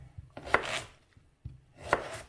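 A knife chops zucchini into cubes crisply on a cutting board, a few quick cuts in two short bursts, close by.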